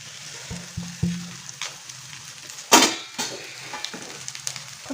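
Egg frying in a pan for chow mein, a steady soft sizzle with scattered clicks and scraping knocks of a utensil against the pan, one sharper clatter near the middle.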